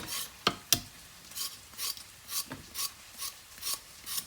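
A knife scraping the outer skin off a moringa drumstick: about a dozen short, rasping strokes in a steady back-and-forth rhythm, close and moderately loud, with no voices.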